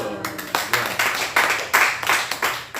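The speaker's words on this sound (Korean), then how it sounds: "박수." An audience clapping together in rhythmic bursts at a laughter therapy session, the claps landing in a loose, steady beat at close range.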